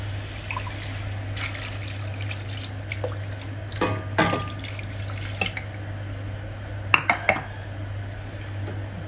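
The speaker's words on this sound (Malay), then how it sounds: "Dan masukkan air." Water trickles and splashes into a pan of half-fried chicken, with occasional clinks of cookware over a low steady hum.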